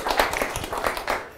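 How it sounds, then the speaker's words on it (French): An audience at a public speaking session claps for a speaker in a short, lively burst of close, fairly loud hand claps that carries on steadily through the moment. "merci d'applaudir pour lui s'il vous plaît."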